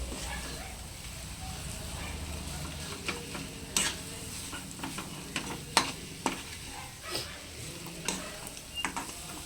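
Prawn roast masala with tomato sizzling in a pan, a soft steady fry broken by sharp scrapes and knocks as it is stirred, heard close.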